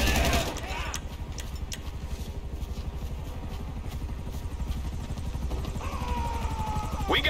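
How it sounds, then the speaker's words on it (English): A helicopter in GTA 5 online throbs with a steady rapid rotor chop close by, a continuous mechanical pulse with brief bursts of game sound at the start and end. "A helicopter has been dispatched to your area."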